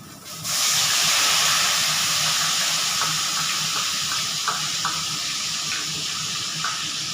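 A paste of ground onion, garlic and tomato hits hot oil and bursts into a loud, steady sizzle that holds at a strong hiss, with faint clinks and scrapes of stirring.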